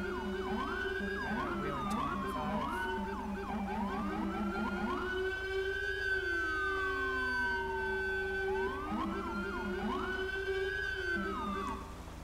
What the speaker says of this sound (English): Yeah, this is the NYPD Rumbler. I love this freaking siren.